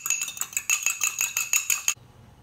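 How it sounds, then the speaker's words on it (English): A fork beats an egg in a dish with quick, rhythmic metallic clinks and scrapes, about a dozen strokes close up, before stopping abruptly. "Beat an egg."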